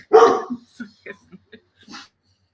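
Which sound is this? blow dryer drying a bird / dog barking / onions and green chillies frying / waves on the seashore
dog barking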